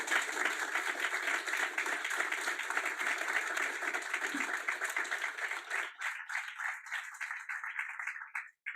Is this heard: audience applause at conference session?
yes